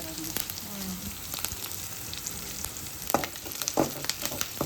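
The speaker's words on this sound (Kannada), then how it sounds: "ಉಳ್ಳಾಗಡ್ಡಿ ಮೆಣಸಿನ್ಕಾಯಿ ಅದೆಲ್ಲ ಕೆಂಪಾಗಬೇಕು, ಕಲರ್ ಚೇಂಜ್ ಆಗತ್ತನ. ಚಲೋ ಹೊತ್ತನಾಗ ಫ್ರೈ ಮಾಡಬೇಕು." Chopped onions and green chillies frying in oil in a pan for mosaranna with mango thokku, a continuous close sizzle with occasional stirring scrapes and louder crackles toward the end, no talk.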